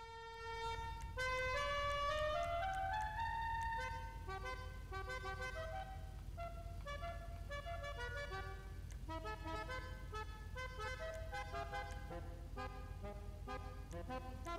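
A car in the GTA 5 video game sounds a musical horn, running through long rising and stepping note sequences over a constant low engine rumble, steady and moderately quiet throughout.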